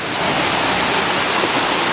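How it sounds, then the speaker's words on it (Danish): A waterfall in Khao Sok National Park, Thailand, pours with a steady, loud, dense rushing roar that fills the whole moment without pause, and no voices are heard. "Der er kraftedeme meget mere vandfald, end jeg havde regnet med."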